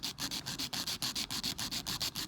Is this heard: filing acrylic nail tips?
yes